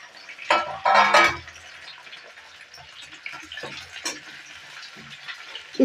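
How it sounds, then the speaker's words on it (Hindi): Sliced potatoes for aloo gobhi frying in hot oil, with a loud burst of sizzling and stirring near the start, then a steady low crackle with occasional clinks and stirs. "ये भी जब तक ब्राउन कलर ना हो जाए इसको भी ऐसे तलेंगे।"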